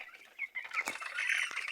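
A native hen clucks repeatedly in short, uneven bursts, fairly close, with a sharper squawk near the end and no talking.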